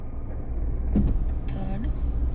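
Car in motion with steady engine and road rumble while the driver shifts from first to second gear, a brief mechanical clunk of the gear change rising near the middle, close and continuous.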